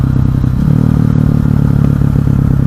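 A KTM 500 EXC supermoto motorcycle's single-cylinder engine drones loud and close, a steady low rumble with a faint ticking pulse throughout.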